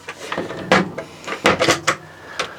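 Large drawer in a Hymer motorhome being opened or shut, several close knocks and wooden rattles over a couple of seconds, fairly loud with no talking.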